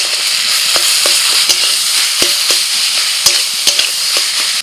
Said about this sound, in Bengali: পেঁয়াজটা হালকা করে ভেজে এবার যে বাঁধাকপি সিদ্ধ করেছিলাম লবণ হলুদ দিয়ে দিয়ে দিলাম।